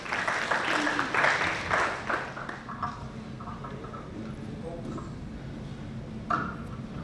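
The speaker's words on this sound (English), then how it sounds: "a big round of applause for her." Audience applause at a healthcare awards ceremony, strongest in the first two seconds and then fading into a lighter patter of clapping with some murmuring, ending with a brief final burst.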